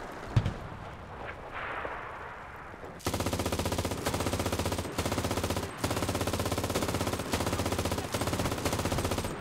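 Loud, rapid sustained bursts from a mounted machine gun in Enlisted, a WWII North Africa battle, firing in long strings with brief pauses, close and dominant after a quiet opening.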